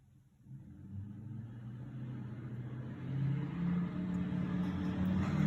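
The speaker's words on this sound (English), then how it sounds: "perfect time for some cars revving outside" Car engines revving outside, a low steady rumble that swells and grows louder over several seconds, heard from a distance without speech.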